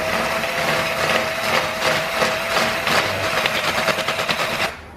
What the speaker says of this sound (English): you may want to vary the direction of the drill